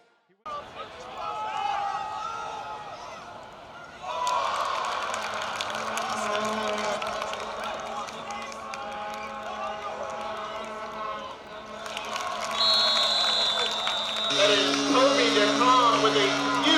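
A baseball stadium crowd roars and cheers during a 2025 regular-season game, a dense, sustained wall of voices that swells louder in the final seconds.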